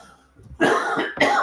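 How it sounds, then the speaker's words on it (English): Two harsh, loud coughs from someone fighting a lingering cough, in quick succession, close to the listener, with a brief pause between them. "I hope I'm not interrupting too much with my coughing"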